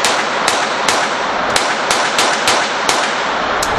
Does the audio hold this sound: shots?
yes